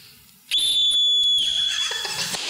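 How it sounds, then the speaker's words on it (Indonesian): A referee's whistle gives one sharp, loud, shrill blast lasting about a second, followed by a ringing trailing tone, close to the microphone after a brief quiet start. "Kenapa Inai bawa peluit?"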